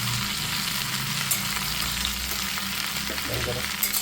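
Okra frying in a pan with kokum and lemon juice, a loud steady sizzle under repeated scraping strokes as the mixture is stirred, close up and with no talking.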